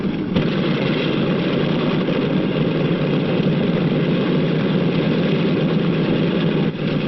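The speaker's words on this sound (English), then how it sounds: "The plane starts over to the runway. There it will wait for its turn to take off." Engines of a 1948 passenger airliner idle before taxiing to the runway, a loud, steady, broadband roar with a strong low rumble that holds unchanged throughout.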